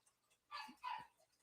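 Two short dog barks sound a moment apart at middling distance, with no talk over them.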